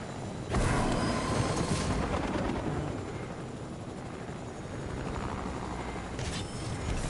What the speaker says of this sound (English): I'm gonna get the chopper.